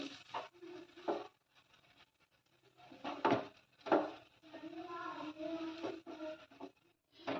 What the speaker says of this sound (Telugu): ఈ జీలకర్ర పొడి, ధనియాల పొడి యాడ్ చేసి మనం బాగా మిక్స్ చేసుకోవాలి రైస్ని.